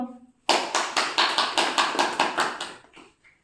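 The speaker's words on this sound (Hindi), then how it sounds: "सुना, ताली बजाओ।" An audience claps in unison on request, a sharp burst of rhythmic, evenly spaced claps that starts abruptly after a brief voice, keeps a steady beat for about two and a half seconds, then trails off.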